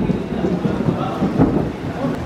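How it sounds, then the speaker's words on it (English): Thunder rumbling during a storm at a farmhouse, a low, steady roll with rain-like hiss throughout, loud and fairly close. "it sounded like the thunder was literally just right here"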